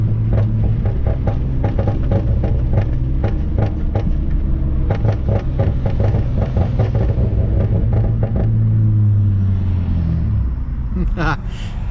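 A tuned car's loud idling engine rumbles with rapid crackling pops and burbles from the exhaust, a dense run of sharp bursts fading into a steady drone.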